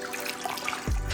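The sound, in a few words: wash sponge dropped into bucket of rinseless wash solution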